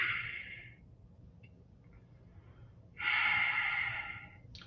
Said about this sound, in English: do some formal breathing exercises